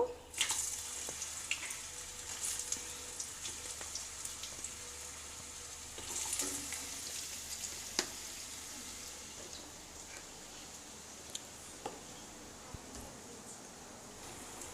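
Potatoes frying in a pan with a little turmeric, a soft, steady sizzling hiss dotted with scattered small pops and crackles, fairly quiet and close.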